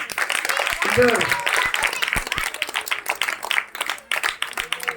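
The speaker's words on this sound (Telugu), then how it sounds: "మనల్ని నడిపించిన అక్క ఒకసారి క్లాప్ చేద్దామా?" An audience at a church Vacation Bible School celebration breaks into a burst of scattered hand clapping lasting several seconds, mixed with voices talking over it.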